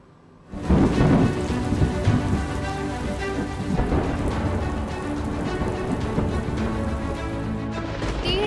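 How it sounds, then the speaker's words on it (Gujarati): Heavy monsoon rain pours down across Saurashtra in Gujarat, a loud, steady, close downpour that starts abruptly and hisses on without a break. "સૌરાષ્ટ્રના અનેક જિલ્લાઓમાં સારો વરસાદ પડ્યો છે"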